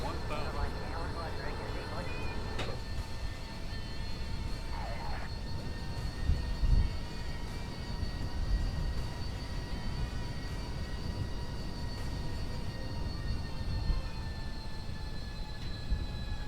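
Steady high-pitched whine of a fast plane engine in flight in Kerbal Space Program, droning continuously throughout with a few short clicks and bumps.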